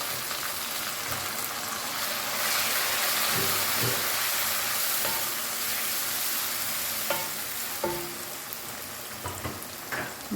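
Chicken browning in a karahi gives a constant loud sizzle and crackle like rain on a surface, with occasional spoon scrapes and taps as the pieces are turned.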